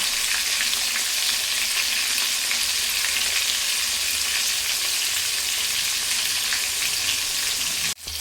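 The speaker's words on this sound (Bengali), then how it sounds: "মাছগুলো লাল করে ভেজে দুদিকে লাল করে ভেজে তুলে নেব।" Pieces of rohu fish fry in hot oil, a dense, loud, continuous sizzle with no speech, cut off abruptly just before the end.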